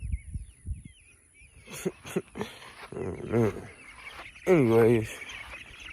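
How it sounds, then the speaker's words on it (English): Ducks, geese and other fowl on a farm call and honk in several short bursts, fairly close, between stretches of someone talking. "look at all these damn birds"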